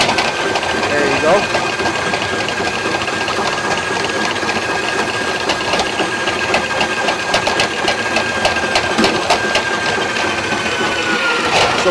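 A Ridgid K-3800 drain cleaning machine drives a spinning cable through a drain in a steady, loud mechanical whir with rapid ticking and clatter throughout.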